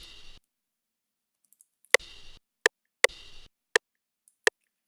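Open hi-hat hits run through an MDA Degrade effect in FL Studio for a beat, crunchy lo-fi cymbal bursts, each a short bright wash, alternating with sharp isolated clicks in a sparse, evenly spaced pattern.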